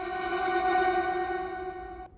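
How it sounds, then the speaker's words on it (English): Reverse reverb effect on high-pitched vocals: a bright, sustained shimmering tone that swells rather than decays, then cuts off abruptly near the end, heard alone. "it's like a reverse reverb of the reverb of the high vocals"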